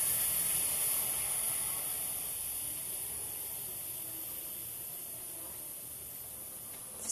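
Butane gas hisses steadily out of a lighter's refill valve as it is pressed to empty the lighter, a close, continuous airy rush that slowly fades in strength over several seconds.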